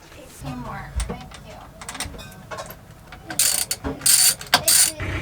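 Metallic clicks, ratcheting and tool clanks from undoing and retightening a boat's prop shaft, scattered and uneven, with louder bursts of sharp metal contact toward the end, close by.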